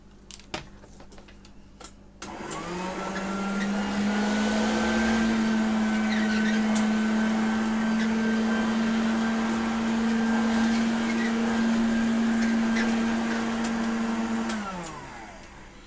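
A Hoover Junior U1104 upright vacuum cleaner switches on after a few clicks, runs on carpet with a loud steady motor whine for about twelve seconds, then powers down.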